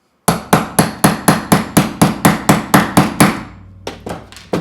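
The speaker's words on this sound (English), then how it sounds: "when you hammer them together they will distort the cap" A hammer sets metal rivets on a bag strap with about a dozen sharp, evenly spaced strikes up close, followed by a few softer, irregular taps. No one speaks.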